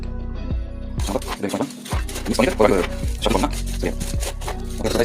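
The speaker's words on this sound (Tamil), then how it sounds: "அடி கொஞ்சம் கரண்டி வேணா போட்டு மிக்ஸ் பண்ணிக்கலாம்." A ladle scrapes and stirs through a bowl of homemade snack mix made with sugarcane, giving repeated rustling, clattering strokes close by, with faint voices in the background.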